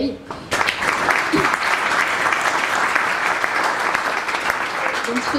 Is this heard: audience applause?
yes